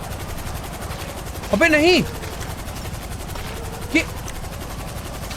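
A helicopter in GTA 5 gives off a steady, fast chopping rotor drone throughout, with someone speaking briefly over it.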